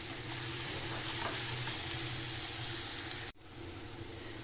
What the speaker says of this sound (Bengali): আদা রসুন দিয়ে অল্প একটু নাড়াচাড়া করে